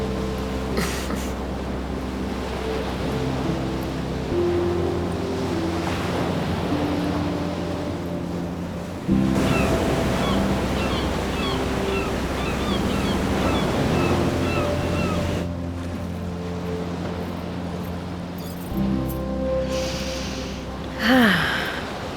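Sea waves wash in a continuous roar of surf mixed with wind buffeting, steady and fairly loud throughout with a few brief swells in intensity.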